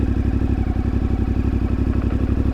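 An Ibex 450 motorcycle engine with an ECU upgrade, ridden slowly uphill on the Ortega Highway, putters with a steady, loud, close thumping idle-like rhythm throughout, no talk.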